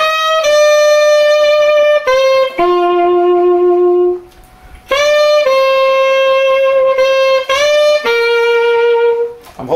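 A saxophone plays the main melody of a song, a series of clear sustained notes in short phrases with a brief pause midway, close and loud with no talking.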